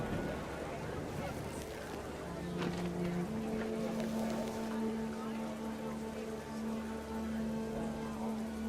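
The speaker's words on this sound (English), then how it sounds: "The rain came down in buckets then," Heavy rain in the video game What Remains of Edith Finch, a dense steady hiss of downpour lasting throughout, layered with soft tonal game music and a narrator speaking over it.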